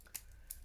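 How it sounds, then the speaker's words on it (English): Two quick snips of scissors cutting fabric while stitching a handbag, sharp and close, with a quiet pause between them and no talking. "So let's snip this."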